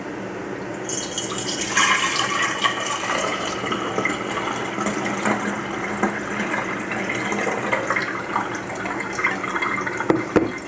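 Liquid strains through a coffee filter into a glass jar in a home pantry, making a continuous splashing, trickling pour that swells after the first second and then carries on steadily nearby, with no talking over it.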